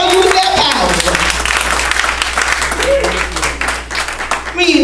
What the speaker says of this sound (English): Give yourself a hand clap of praise.